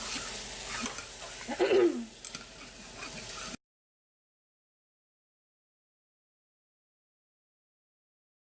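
Eggs are stirred in a pan, giving a scraping, sizzling clatter for a few seconds before the sound cuts to silence, with no talk.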